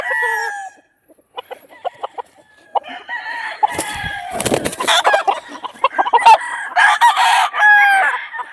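Bruce Barnett sweater broodcock gamefowl, a close rooster crowing and clucking in several bursts, with brief loud rustling or flapping midway.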